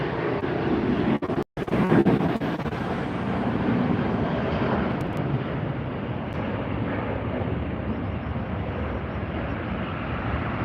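Southwest Airlines jet at LAX airport, a steady broadband roar of jet engines that holds loud and close for the whole stretch with a brief sharp break near the start.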